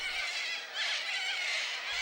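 A flock of sanguine cockatoos in the Australian wild gives harsh, rasping screeches that overlap into a continuous loud din, swelling briefly in the middle.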